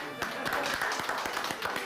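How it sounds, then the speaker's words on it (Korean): A small audience at a Korean health program gives a short round of applause, with light, evenly spaced claps that sound close and modest rather than a full ovation. "박수 한번 드리겠습니다"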